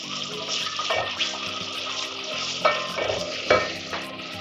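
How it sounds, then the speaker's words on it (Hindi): Oil sizzles steadily as garlic ginger paste fries, with occasional scrapes and clinks of a spoon stirring the pan. "लहसुन अदरक का पेस्ट 1-2 मिनट के लिए भुन गया है"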